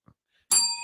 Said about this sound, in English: I'm on the triangle.